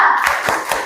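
A classroom of elementary school pupils claps together in a quick rhythmic pattern, with three crisp, close, loud claps in a row.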